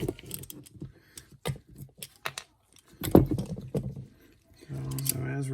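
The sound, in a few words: removing screws from a TPI fuel pressure regulator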